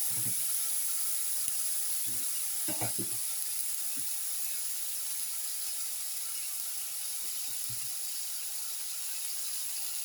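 Vegetable mixture sizzling in a hot pan for pepper shrimp vermicelli pasta, a steady soft hiss throughout with a few faint knocks and utensil sounds underneath.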